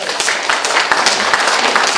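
An audience at a lecture claps in steady, dense applause, close and loud for a couple of seconds.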